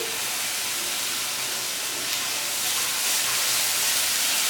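Onion, garlic and green chili paste fry in a pan for a Bengali gathi kochu bhorta, giving a steady, close hiss that carries on without a break and grows a little louder toward the end.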